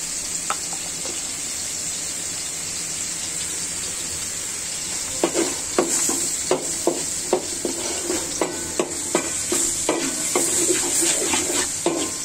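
Koi fish fries with panch phoron spices in a pan, giving a constant bright sizzle; from midway, a run of regular scraping stirs of a spatula against the pan punctuates it.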